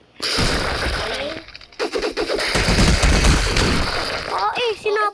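Explosions and bursts of gunfire in a video game ring out loud and busy for about five seconds, with a short lull near the middle, while a person talks over the action.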